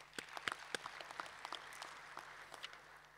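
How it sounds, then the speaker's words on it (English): Scattered audience applause at a business presentation, individual claps standing out sharply in an uneven patter that stays moderately quiet. "So we need to give ourselves a big round of applause for this."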